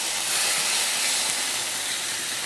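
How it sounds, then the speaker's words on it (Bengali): Chopped onions fry in oil for a spicy small-fish curry, giving a steady, even hiss of sizzling that holds level and close throughout with no talking. "পেঁয়াজটাকে একটু লাল করে ভেজে নেব আমি"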